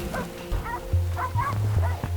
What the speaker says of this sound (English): Just keep on this side so we can hear if he barks.